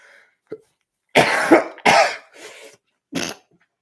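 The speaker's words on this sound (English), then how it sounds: "I don't mean to be coughing into the microphone" Several harsh, close coughs come in quick bursts, with a short throat-clearing sound at the start and brief quiet gaps between them.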